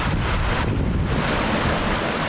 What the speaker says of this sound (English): Well, this is Salt Creek.